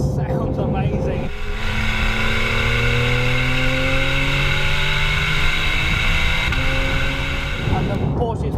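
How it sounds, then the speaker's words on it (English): A Porsche 911 GTS flat-six engine with sports exhaust revs hard on a track and climbs quickly through its PDK dual-clutch gears, a loud, raspy exhaust note rising in pitch and staying close throughout. "there's that engine, the flat six"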